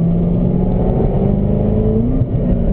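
A Corvette ZR1 race car engine drones loud and close under steady throttle on a track, its tone holding and rising slightly with a brief dip near the end.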